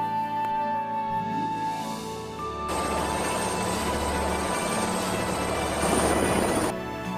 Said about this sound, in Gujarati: આપણું હેલિકોપ્ટર હવે આવી ગયું છે